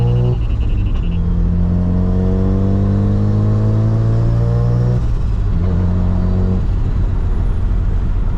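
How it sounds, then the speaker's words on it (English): A big-turbo Mazda FD RX-7 heard from inside the car with the windows up, its engine droning loudly and rising in pitch through two long pulls with a brief dip between, no talk. "put the windows up so you guys can hear more of the car"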